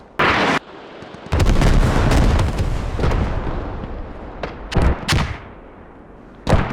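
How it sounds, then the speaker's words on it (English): Artillery strikes in a tactical multiplayer shooter land as several heavy booming blasts. A sharp burst comes first, then a long rumbling explosion with a decaying tail, then scattered closer impacts, with a final loud hit at the end. "before they do that, they actually call in artillery"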